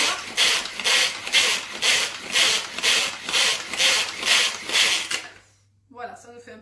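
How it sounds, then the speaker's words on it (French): Rhythmic scraping chops of a herb chopper's small blade working coriander against the bottom of a bowl, about a dozen even, loud strokes in steady succession, then a pause and a few lighter clicks. "cette petite lame qui va permettre de bien racler le fond et d'aller vraiment chercher les herbes pour bien le hacher"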